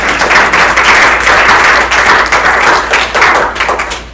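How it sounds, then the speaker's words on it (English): A women's conference audience breaks into sustained applause, a dense wash of many hands clapping close and loud for the full few seconds, with no voices heard. "Let's clap for that."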